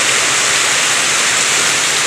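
Heavy rain pours down steadily in a village during the rainy season, a dense, loud, unbroken hiss of water with no voices over it.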